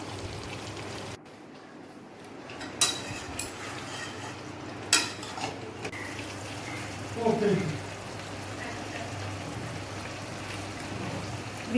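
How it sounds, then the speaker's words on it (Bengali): Mutton stir-fried in a pan with browned chopped onion, coriander, cumin and chili powder, heard as a soft steady sizzle with scattered clinks of a spoon against the pot, while people talk over it. "মাংসটা কষানো হচ্ছে এখন"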